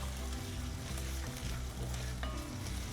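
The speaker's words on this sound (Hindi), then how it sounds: "तेल अच्छी तरह से गर्म हो चुका है। हम डाल देंगे 1 चम्मच अदरक लहसुन चॉप की हुई।" Chopped ginger and garlic sizzle loudly and steadily in very hot oil in a greased iron kadai, a high-heat fry with no talk over it.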